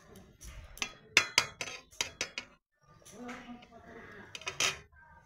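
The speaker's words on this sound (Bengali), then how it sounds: "তো একবার নেড়ে চেড়ে দেখে নিলাম" A metal spoon clinks and scrapes against a cooking pot while rice boils, giving a run of sharp knocks and rattles close by, with a softer, busier stretch of stirring toward the end.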